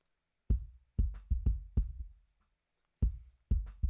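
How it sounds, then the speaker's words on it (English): Deep, boomy sub kick drum hits with long low-end tails, several in a groove, then a pause before the pattern resumes. "And then next we have this sub kick, which I really like."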